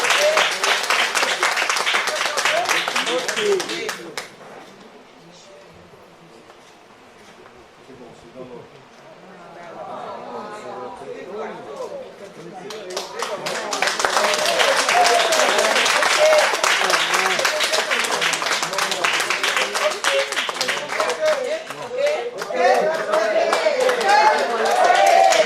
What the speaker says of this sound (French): Oui, voilà, vos applaudissements.